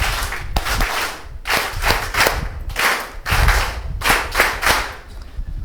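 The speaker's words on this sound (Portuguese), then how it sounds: "Uma salva de palmas bem forte para o nosso Deus." Strong applause from a crowd at a Mozambican address to the people, dense and steady clapping in several surging waves, close and loud with no voices over it.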